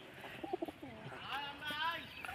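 Domestic pigeons kept for sale coo in low, repeated phrases, fairly close, with other bird calls and chirps rising behind them in a busy setting.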